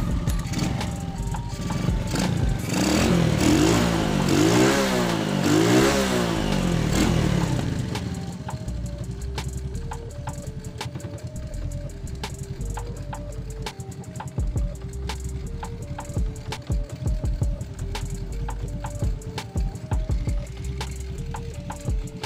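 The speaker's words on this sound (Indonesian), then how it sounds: "nyalakan mesinnya." A 1997 Honda Supra motorcycle engine is running, first revved hard with rising and falling surges for several seconds, then settling into a steady, slightly rough idle with rapid ticking, close and loud throughout.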